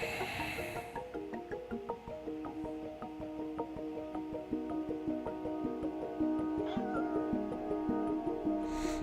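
A cat meows repeatedly in a trailer for the video game Stray, with drawn-out, clear meows over a steady musical background and no talk.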